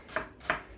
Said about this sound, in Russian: Лук нарезаем полукольцами.